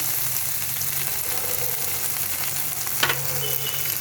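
Spice masala frying and sizzling in oil in a pan with a little water, a steady close crackle throughout with a brief scrape of stirring near the end.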